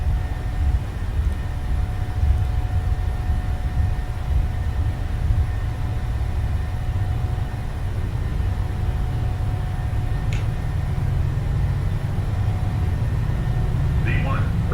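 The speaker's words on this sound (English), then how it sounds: "Takeoff thrust set, indications normal." Boeing 737 jet engines at takeoff thrust on a freight departure, heard from the cockpit as a steady, dense low roar that holds unbroken throughout.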